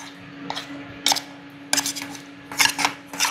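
Silicone for mold casting being mixed quickly in a container, a few short scraping, rasping strokes in bursts, near and moderately loud over a faint steady hum.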